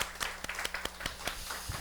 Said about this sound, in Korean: 찬양 받으신 하나님께 감사의 박수 올려드리겠습니다.